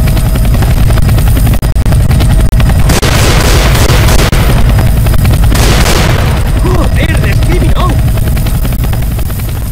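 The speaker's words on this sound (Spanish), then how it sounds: "Un helicóptero." A steady, loud helicopter rotor drone fills the scene in the video game Left 4 Dead 2, with scattered booms and gunshot-like bursts over it and occasional voices.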